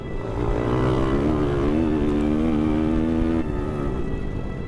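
A loud motorcycle engine roars close by in a sustained, droning rev, its pitch wavering slightly before easing off.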